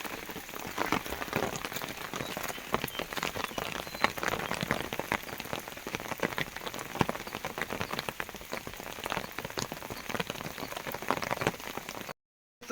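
Steady rain pours onto a hard outdoor courtyard, a dense patter of drops with no voices, continuing evenly before cutting off at the very end.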